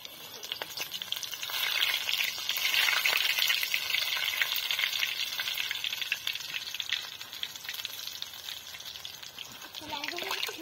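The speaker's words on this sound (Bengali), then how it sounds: "এবার তেলে বেসনের ব্যাটারে চুবিয়ে এক একটা ফুলকে এরকম ভাবে তেলের উপরে ছেড়ে" Bakful (hummingbird tree) flowers dipped in gram-flour batter fry in hot oil for a village-style bora, giving a steady, fairly loud crackling sizzle throughout with a brief louder swell partway.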